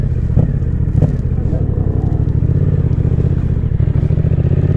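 A Yamaha Tracer 700 motorcycle held in a wheelie, its engine droning steadily and loudly at close range with a low rumbling pulse and faint clatter.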